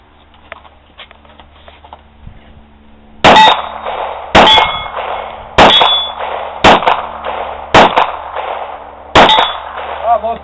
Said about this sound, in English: Next, Walther PPK 380. Little 3-inch barrel at 25 yards.